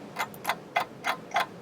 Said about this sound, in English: Clocks.